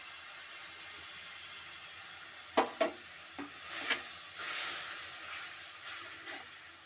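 Water saved from grinding spices is poured into a pan of frying mustard seeds and cumin, giving a few sharp splashes and pops followed by a rising hiss of sizzling, fairly quiet and close.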